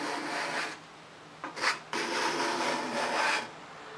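A card scraper rasps over very hard rock maple in several short scraping strokes, raising shavings, close and distinct with a brief higher scrape in the middle.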